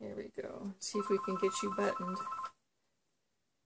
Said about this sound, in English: Oops, that's the phone.